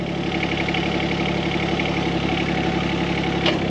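A John Deere 17G excavator engine runs steadily while the machine reverses, a continuous close mechanical drone with a slight clank near the end and no voices.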